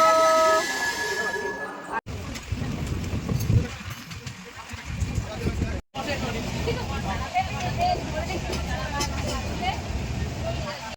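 Inside a moving passenger train, a continuous rumble and rattle fills the carriage, with a nearby crowd murmuring and voices chatting, broken by two brief cuts.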